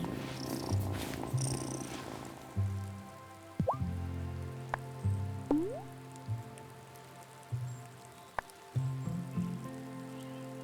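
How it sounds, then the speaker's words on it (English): A cat in the video game Wylde Flowers purrs in a steady low rumble, close and soft, under light rain pattering, gentle ticking game sounds and a couple of short rising tones. "who's a good kitty?"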